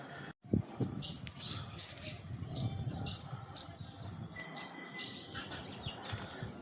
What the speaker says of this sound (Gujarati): પાણી પીવા આવે અહીંયા આગળ ચકલા